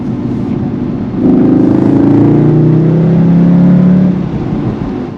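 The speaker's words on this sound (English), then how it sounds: "the highly synthesized engine noise that is streamed into the cabin" Inside a Cupra Formentor cabin, synthesized engine noise piped through the speakers swells into a sustained, tonal revving drone with a buzzy layered character, then settles back to a lower idle.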